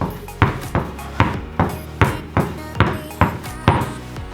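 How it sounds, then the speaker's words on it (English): A basketball bounces steadily on a hard floor, about ten even thumps in a quick regular rhythm, close by and with no talking. "when you're bouncing this ball, you want to keep it as low as possible"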